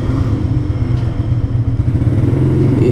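A Keeway CR152 motorcycle engine runs steadily up close, its low, throbbing idle-to-cruise note loud and continuous throughout, with no talk over it.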